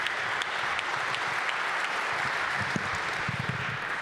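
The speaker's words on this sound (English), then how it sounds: "give a big, jubilant round of applause for NBA Commissioner Adam Silver" An arena crowd claps for the NBA commissioner at the opening of a new sports venue, a broad continuous wash of applause with a few sharper claps standing out near the end.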